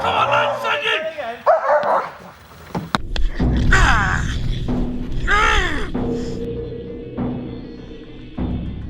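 Police training dog barking and yipping in short bursts at a dog academy exercise, loud and close, mixed with shouting and talk from handlers and a suspect.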